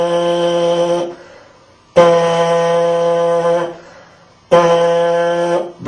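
Three sustained brass-style lip buzzes without an instrument from a euphonium player, each a steady buzzy tone held one to two seconds, close and clear with short breaths between.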